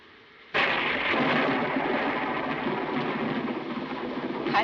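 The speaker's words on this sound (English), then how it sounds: "I love thunderstorms, don't you?" Thunder from a thunderstorm breaks suddenly and rolls on as a loud, sustained rumble with a hiss like heavy rain, heard alone without voices.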